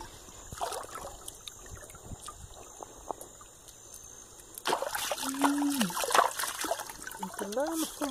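River water runs and trickles over gravel and sand, a steady close babble that swells and grows busier partway through, with splashy bursts as people talk nearby.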